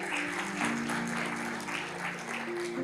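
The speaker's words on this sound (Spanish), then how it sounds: "Le damos un fuerte aplauso al Señor." A church congregation applauds during a service, with steady mid-level clapping over sustained musical tones underneath.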